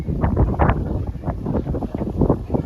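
Strong wind buffets the microphone outdoors at a rooftop work site with loose metal roofing sheets, a steady broadband rumble and gusty rustling that swells and eases throughout.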